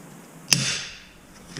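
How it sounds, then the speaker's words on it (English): A single sharp metallic tap of a hammer on a centre punch marks a light dot on a steel horseshoe bar, close and crisp with a short ringing decay, then a faint second tick, no talking. "I'm literally just going to put a very light centre dot"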